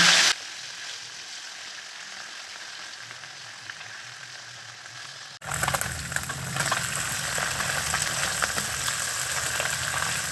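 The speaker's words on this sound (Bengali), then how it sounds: "এবারে গরম তেলের ভেতরে মেখে রাখা পুঁটি মাছগুলো ছেড়ে দেব অল্প অল্প করে ভেজে নেব" Puti fish fried a few at a time in hot oil: a steady, close sizzle whose crackle swells and gets louder midway, once more fish go into the pan, with no talking.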